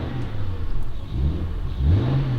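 A running BMW 3 Series E90 engine gives a few short revving blips, rising and falling in pitch, near and moderately loud against a steady idle hum.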